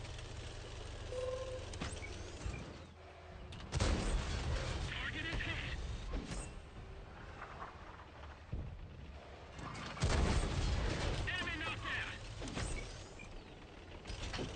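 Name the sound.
artillery fire in a video game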